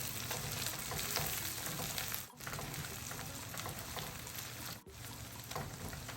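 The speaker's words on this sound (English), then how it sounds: "I'll also add in some tomato paste, and I'll fry this together for about 5 minutes." Habanero pepper and tomato paste fry together in a pot with a continuous crackling sizzle, close and steady, briefly dipping twice as if stirred, with no voices.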